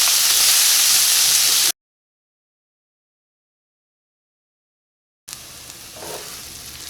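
Onions frying in a pan until golden for kadala curry give a loud, steady sizzle that cuts out abruptly, then returns quieter with a few soft stirring sounds.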